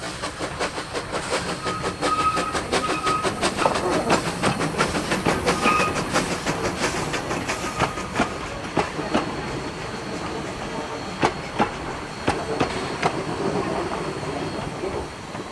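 A vintage steam train, the F-13 at Ferrymead Railway, rolls along the rails pulling an old four-wheel coach, with steady rumble and rhythmic clickety-clack of wheels over rail joints growing more regular, heard from on board, no talking.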